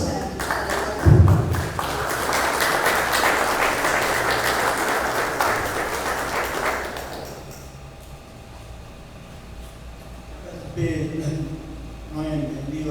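An audience applauds a priest at a national gathering of spiritual counselors, a dense burst of clapping lasting about six seconds before it fades into quiet room noise and a voice speaking.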